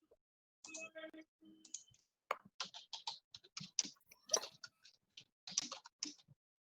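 Keystrokes on a computer keyboard clatter in irregular bursts of sharp clicks, fairly close, during an online faculty session, with a brief murmur of voices near the start.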